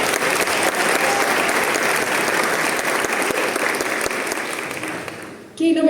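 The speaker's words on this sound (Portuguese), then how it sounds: "Aplausos para vocês!" Sustained audience applause at a motivational talk in Portuguese, a dense steady roar of clapping from a large crowd that fades briefly near the end before a voice cuts in.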